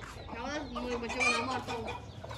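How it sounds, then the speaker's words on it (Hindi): Hens cluck among their chicks with a run of close, rhythmic, pitched clucks, loud and continuous across the whole stretch. "वो देखो काली मुर्गी चिटी मुर्गी से लड़ने जा रही है"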